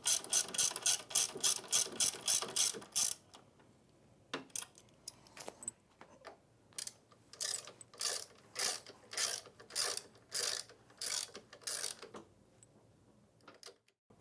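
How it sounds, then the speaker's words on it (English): A ratchet wrench tightens the main frame bolts on an ATLAS transfer roller belt machine, giving close, crisp bursts of rapid clicking in repeated strokes, with a brief quieter gap between the two runs. "With your linkages now tight, you will now secure the main frame bolts."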